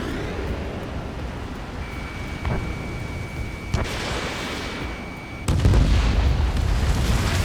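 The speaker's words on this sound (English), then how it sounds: "Target is hit. Fox 2. Missile in the air." Missile explosions in Ace Combat 7: Skies Unknown over a constant roar of engine and wind, with a couple of sharp cracks and then a heavy, loud boom near the end.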